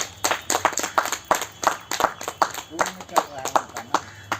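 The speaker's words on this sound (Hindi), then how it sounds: "हमारे बरकट्ठा के प्रखंड प्रभारी जो सो महेंद्र जी के लिए एक बार जोर से ताली बजाइए जरा सा" Rhythmic clapping from an audience at a Patanjali yoga meeting for regional coordinators and teachers, quick uneven claps repeating steadily with voices talking underneath.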